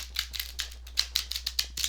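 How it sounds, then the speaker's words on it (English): Tarot cards being shuffled, a quick series of crisp papery flicks and snaps at an even rhythm, close and fairly quiet over a steady low hum, with no talk. "I feel like I need to just shuffle one more time."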